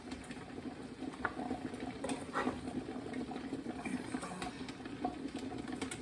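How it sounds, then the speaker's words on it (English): Steady bubbling and rolling of water at a boil in a pressure canner holding jars of beans and ham, a continuous low churn with small pops and clinks scattered throughout. "And water is boiling in my canner."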